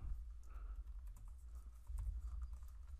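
Keys clatter on a computer keyboard as code is typed for a web app. Quick, irregular clicks come through faintly over a low background rumble.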